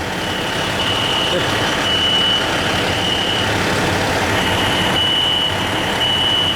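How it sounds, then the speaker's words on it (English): A building fire alarm sounds in a steady repeating pattern of high electronic tones over a dense, constant noisy background, with voices faintly present. "we're gonna find out why the fire alarm's going off."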